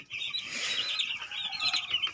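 Many eight-day-old broiler chicks chirp continuously in a dense, high-pitched chorus in a brooding shed, close by and fairly loud.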